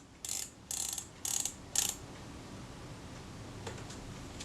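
Kodak Retina camera film advance and shutter mechanism being worked by hand: four crisp, close mechanical clicks and ratchet bursts in an even rhythm, then quiet with a couple of faint ticks.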